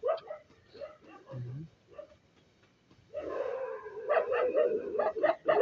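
A dog barks in a burst of short, sharp yips and woofs, fairly faint and near, followed by busier noise with voices chattering.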